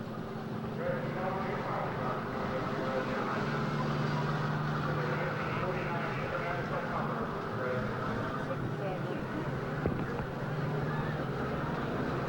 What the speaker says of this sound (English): This is a 1949 International Pumper, entered in the parade by the Dresden Volunteer Fire Department